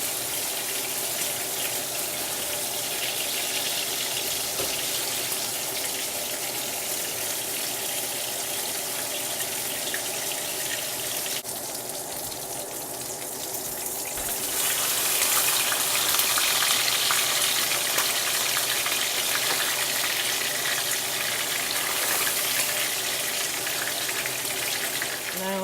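A kitchen tap runs steadily while hands are washed, a constant hissing splash that grows louder and brighter partway through as the flow strengthens or the hands move under it; no talk is heard.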